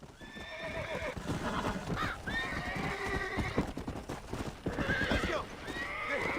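Horse hooves clip-clop steadily through a Red Dead Redemption game scene, joined by a couple of clear neighs and whinnies over continuous ambient game sound.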